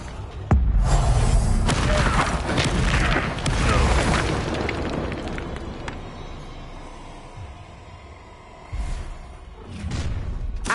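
Spell explosions in the Hogwarts Legacy video game: a heavy boom and rushing blast that roars for several seconds and slowly fades, then a second burst followed by lingering rumbling noise.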